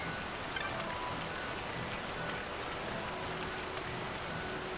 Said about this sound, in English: So cold, always raining,